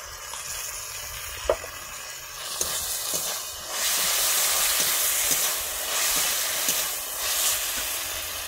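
Tomato sauce goes into a hot pan of frying masala base for Indian-style pasta. A low sizzle with a few light clinks swells into a loud, hissing surge that comes in waves.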